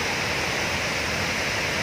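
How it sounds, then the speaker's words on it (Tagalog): The Lake Cebu waterfall in South Cotabato roars as a dense, steady wash of falling water, loud and continuous with no breaks and no voices. "Lake Cebu Waterfall."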